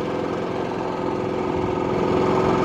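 A Predator 9500 watt super quiet inverter generator running in eco mode on 240, a steady low engine hum with a faint rise in level toward the end, close and continuous.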